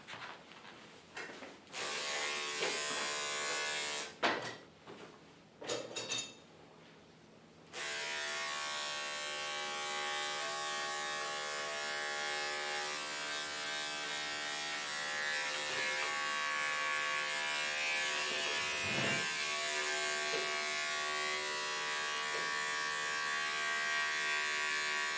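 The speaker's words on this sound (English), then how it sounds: "let's get our 10 blade on the clipper" An electric pet hair clipper fitted with a 10 blade buzzes steadily during dog grooming, a sustained close hum broken by a few short stop-start bursts early on before running continuously.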